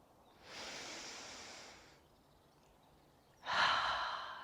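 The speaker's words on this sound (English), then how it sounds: "Let's do 2 deep breaths." Two slow, deep breaths taken during a morning yoga session, each a long, airy rush close to the mic, separated by a quiet pause, with the second breath louder than the first.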